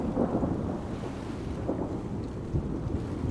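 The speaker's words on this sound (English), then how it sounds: "these penguins seem to fear the roar of the thunder" Deep thunder rumbles low and continuous as a storm brews over a southern African coastline, with wind buffeting the microphone over the short span.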